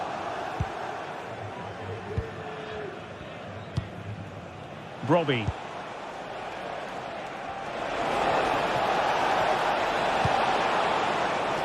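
A stadium crowd in a football video game roars, swelling loudly in the later seconds beneath continuous match commentary, with a few sharp thuds earlier on.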